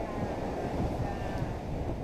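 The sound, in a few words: strong wind at the Florida shore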